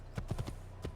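Hooves of a horse in the video game Assassin's Creed clip-clop in a short run of four or five muffled, fairly loud steps over a low game drone.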